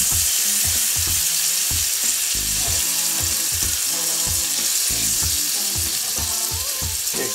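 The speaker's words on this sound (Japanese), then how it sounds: "で、バターをよくなじませながら焼いていきます。" Mushrooms picked on a foraging trip in Tochigi frying in butter in a pan, a loud, dense, continuous close sizzle with occasional stirring bumps and no speech.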